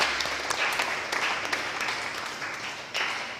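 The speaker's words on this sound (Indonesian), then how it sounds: "Mari kita berikan tepuk tangan untuk mereka." Congregation applauding the newlyweds at a church wedding blessing, a soft, fairly distant patter of clapping that fades gradually over a few seconds, with no talking.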